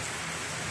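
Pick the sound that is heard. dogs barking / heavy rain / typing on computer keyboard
heavy rain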